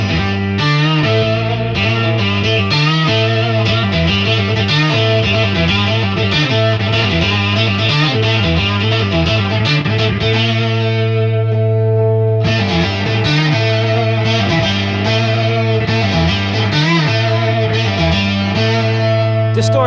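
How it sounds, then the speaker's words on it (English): Electric guitar run through an EHX Mono Synth pedal on its Unison setting, alongside a bass amp and guitar amp, giving a loud, thick, buzzing synth-like tone with steady picked notes and a brief pause near the middle. "let's go on to the next setting, which is Unison. Let's hear what that pretty much sounds like."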